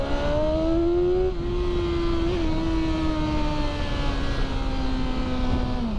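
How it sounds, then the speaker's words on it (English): A 2019 BMW S1000XR Triple Black motorcycle engine revs hard and steady, its whine climbing and holding through the gears, loud and close with continuous wind and road rumble underneath. "It sounds like a freaking race bike"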